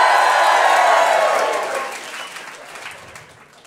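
Studio audience at a late-night stand-up comedy show answers the comedian with a burst of loud cheering and applause that holds strong, then fades over a few seconds.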